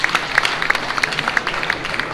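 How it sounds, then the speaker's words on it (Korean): A crowd at a church general assembly gives a short round of applause, with scattered sharp claps rising and falling over about two seconds. "박수 보내주세요. 수고하셨어요."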